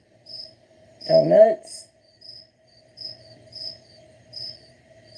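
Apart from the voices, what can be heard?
crickets chirping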